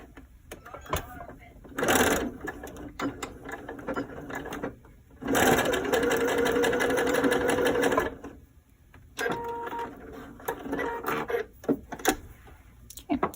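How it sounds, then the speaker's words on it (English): A sewing machine stitches a seam in bursts, its rapid mechanical whir starting and stopping several times, close and clear, with brief pauses and handling sounds between runs. "And now I'm going to pin that and sew along that drawn line."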